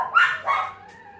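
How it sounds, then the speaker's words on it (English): A dog barks twice in quick succession indoors, close and moderately loud, the second bark trailing into a short whine before fading. "So even my dog's barked at that."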